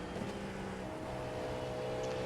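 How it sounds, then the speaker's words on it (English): Cadillac V-Series.R prototype race car in the iRacing simulator at Canadian Tire, a steady loud engine drone with strong harmonic tones holding at high revs throughout, no talk. "I think that this is the best sounding race car in the world anywhere right now."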